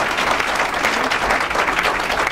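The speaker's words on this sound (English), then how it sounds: "Please, a round of applause for each of our candidates." An audience at a Tea Party Patriots Senate candidate debate in Nebraska gives steady, dense applause, a continuous wash of clapping from a crowd throughout.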